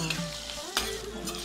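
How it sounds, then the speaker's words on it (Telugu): A tempering of green chillies and curry leaves sizzles softly in a pan, with a steady low frying hiss and a couple of faint stirring clinks. "తాలింపు వేగిపోయింది కదా"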